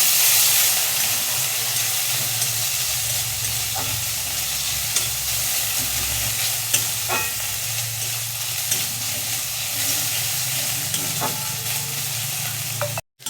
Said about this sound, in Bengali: দিয়ে এটাকে একটু কষিয়ে নেব পেঁয়াজের সাথে ভালো করে